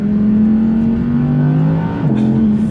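An Audi R8 V10 Performance is driven hard, its engine holding a loud, close, sustained droning note that shifts pitch briefly near the end as a gear changes.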